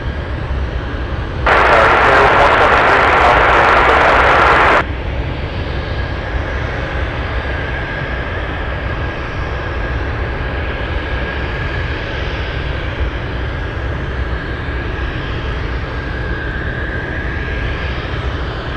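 A National Airlines cargo jet taxiing at Anchorage airport gives a loud, continuous engine rumble with a steady whine, broken early by a brief burst of louder broadband roar that stops abruptly.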